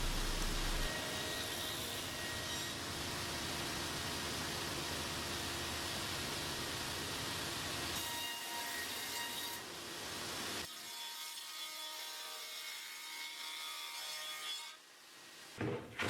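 A table saw fitted with a dado stack cuts tenons on the ends of a walnut tabletop, a sustained harsh whirring grind that runs steadily, then drops to a quieter spin-down hum with brief knocks near the end.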